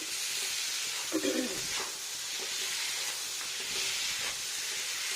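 Paneer and tomato curry sautés in a pan over a gas flame turned up to medium-high, giving a steady close sizzle and hiss with a few brief stirring scrapes and no talk.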